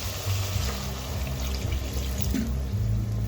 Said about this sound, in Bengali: তো এখন পরিমাণ মতো জল দিয়ে দেবো।